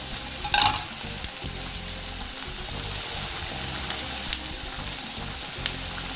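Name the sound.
peppers charring and sizzling in a pan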